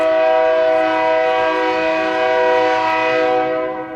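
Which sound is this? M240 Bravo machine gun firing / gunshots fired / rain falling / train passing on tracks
train passing on tracks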